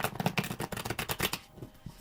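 A quick, close riffle shuffle of a deck, a rapid flutter of cards snapping together over about a second and a half, then settling.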